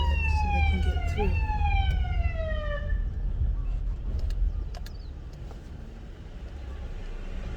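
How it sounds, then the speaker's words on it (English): An ambulance siren wails on a hill, its falling sweeps loud for the first few seconds before dying away into a dull hum of road and engine noise. "There's an ambulance coming."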